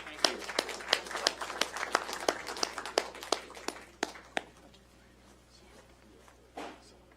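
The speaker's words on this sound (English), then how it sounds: "let's give them another round of applause for serving our country" A round of clapping from a crowd, a rapid series of sharp hand claps that thins out and stops after about four seconds, followed by a quiet room.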